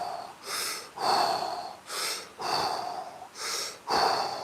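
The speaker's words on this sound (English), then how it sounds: "A few big breaths as we slowly go down" Slow, deep breaths taken while lowering into a squat, four long airy inhale-exhale swells close to the microphone in an even rhythm with no talk.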